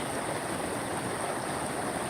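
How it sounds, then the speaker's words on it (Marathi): Floodwater of a river after heavy rain, a dense, even rushing hiss of flowing current held steady without pause. "आपण सर्वजण आता बघू शकता या पाण्याचा प्रवाह कसा चालू आहे"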